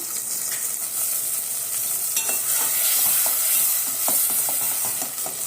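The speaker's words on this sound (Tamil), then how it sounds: "இப்போ நல்லா வதக்கி விட்டுடலாம் இது நல்லா வதங்கட்டும் கொஞ்ச நேரம்" Ingredients for an eggplant curry sauté in a pan, giving a loud, steady frying sizzle with frequent scraping and stirring clatters throughout, close by.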